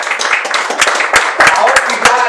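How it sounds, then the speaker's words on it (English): A church congregation clapping hands together in a quick, uneven burst of claps at a Wednesday night service, close and lively, with voices calling out over the applause. "Give the Lord a hand clap"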